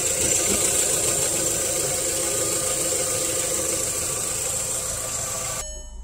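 A 2002 Volkswagen Jetta 2.0 engine running steadily at idle with the hood open during a coolant hose repair, a constant close hum with a faint whine, cutting off abruptly at the end.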